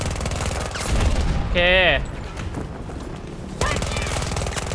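Gunfire in Battlefield 2042: loud, rapid automatic bursts crackling in close succession, with a brief pause and then renewed firing. Someone speaks briefly over the shooting.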